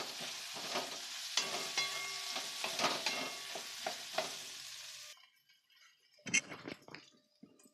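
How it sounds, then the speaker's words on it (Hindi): Boiled potatoes being mashed and stirred into a hot pan for aloo paratha filling, giving soft squishy scraping and stirring strokes over a light sizzle for about five seconds, then a quieter pause broken by a couple of sharper clinks near the end. "अब हम इसमें जो उबाले हुए आलू हैं वो डाल देंगे मैश करके अच्छे से मिक्स कर देंगे"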